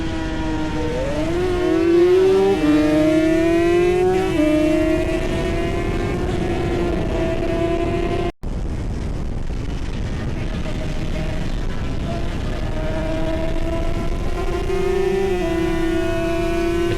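Racing motorcycle engines, a Manx Norton and a reverse-cylinder Yamaha TZ, screaming at full throttle on the Snetterton circuit at a CRMC classic race, with loud, sustained, rising and falling revs and gear changes close by and a brief dropout midway.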